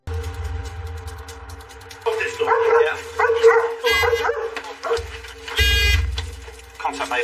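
A dog barks in short, loud bursts outside a suspect's house during a police arrest, over a steady low engine-like rumble, with the barking clustered in the middle and end of the stretch.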